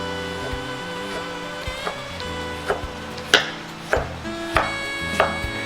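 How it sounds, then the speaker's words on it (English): A knife julienne-cutting a carrot on a board makes a series of sharp, crisp chops at a steady, unhurried pace, heard close and clear. "Just going to do a quick julienne, very simple cut."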